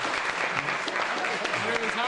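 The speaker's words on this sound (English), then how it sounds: "Applause, please." Applause from an audience at a live comedic show, dense continuous clapping filling the whole moment with a voice or cheer mixed faintly underneath.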